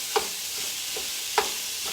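Onion and garlic soften in a hot pan with a steady, dense sizzle, punctuated by a couple of light utensil taps, heard close and alone without speech.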